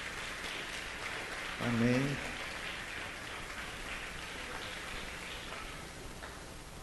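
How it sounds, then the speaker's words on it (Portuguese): Congregation applauding for the Lord during a church service, a steady broadband wash of clapping throughout with a brief spoken response rising over it near the start. "Dê uma salva de palmas para o Senhor."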